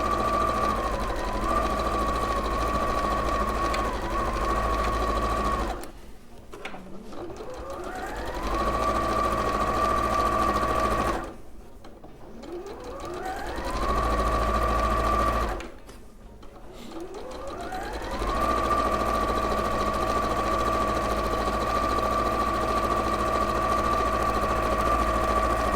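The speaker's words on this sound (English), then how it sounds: "I'm just going to run a stitch all the way around close to the edge." A sewing machine stitches around the edge of a bag piece in long steady runs, its motor whirring with a continuous rapid needle buzz, stopping briefly three times before starting up again, close and clear.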